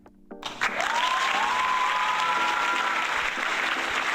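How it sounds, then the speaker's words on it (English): Comedy show audience breaking into applause, clapping that swells in after a quiet moment and continues loud and sustained, with a faint whistle rising over the crowd. "Keep that applause going for y'all."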